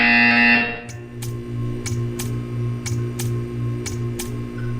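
A buzzer from the Portal 2 video game sounds in a row of short, evenly spaced bursts, about eight in under five seconds, over a steady low electronic hum once a brief opening tone has faded.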